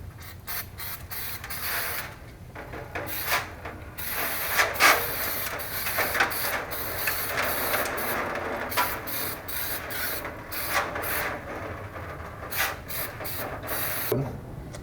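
A small wire brush scrubs dirt off the wheel studs of a 1981 K5 Blazer 4x4 during a front brake job, in rapid, close, rhythmic scratchy strokes with brief pauses between passes.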